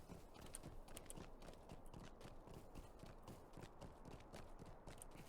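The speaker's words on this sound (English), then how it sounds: "let's get on our horse, or a horse, any horse" Horse hooves galloping in the online game Lord of the Rings Online, a steady rapid clip-clop rhythm of hoofbeats held at an even, moderate level throughout with no talking.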